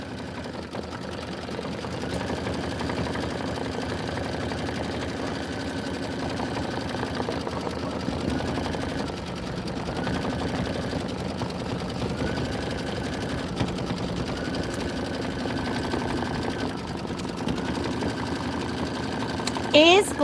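An embroidery machine stitches a tack-down on a fabric border, a steady mechanical whir with rapid needle chatter running continuously at moderate volume in a shop setting.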